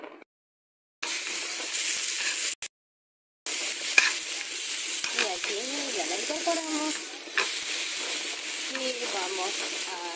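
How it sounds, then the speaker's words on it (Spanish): Spinach sautéing in a pan, a steady loud sizzle and hiss that starts after short silent gaps, with faint voice-like tonal sounds partway through. "vamos a poner a sofreír un ratito lo que es la espinaca"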